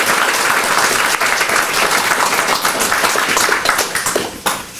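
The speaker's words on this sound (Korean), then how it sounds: "우리 축하의 박수 한번 드리겠습니다" A church congregation applauds in celebration at a founding and pastor installation service, loud, sustained clapping from many people in the hall that tapers off slightly right at the end.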